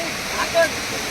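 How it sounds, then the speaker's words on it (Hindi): A small waterfall at Tirathgarh in Bastar rushes as a steady broadband wash, with a brief faint voice over it. "ये भी एक बोले जाते छोटे से वाटरफॉल बोल सका था"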